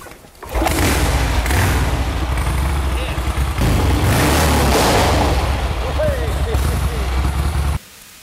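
A Vincent Black Shadow 53 motorcycle engine starts after a brief pause and runs loud and close for several seconds, a dense steady rumble with slight revving swells, then cuts off abruptly near the end.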